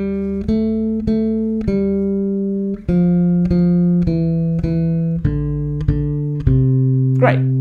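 The Twinkle Twinkle Little Star melody is played on bass guitar, with clear plucked notes that step through the tune at an even pace and ring on between plucks.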